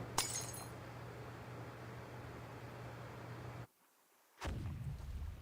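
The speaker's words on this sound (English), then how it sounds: "Sounds like some kind of explosion near the clinic." A loud burst from an in-game explosion near a clinic in the video game Reverse: 1999 cuts through a steady hum and noisy backdrop, then sound drops out briefly before another sharp crash-like impact returns.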